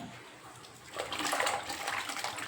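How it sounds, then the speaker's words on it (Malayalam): Running water from a tap pours over cut vegetables such as potatoes and tomatoes being washed, quiet at first, then a louder splashing rush that continues steadily. "ഒന്നും കൂടി കഴുകിയിട്ട് നമുക്ക് ഈ പച്ചക്കറി എല്ലാം വേകാനിടാം"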